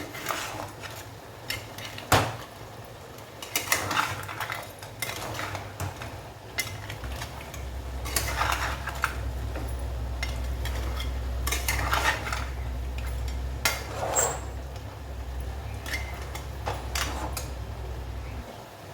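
A spoon stirs chili powder into a crab curry in a metal pot, scraping and clinking again and again at an irregular pace, with a low hum running underneath.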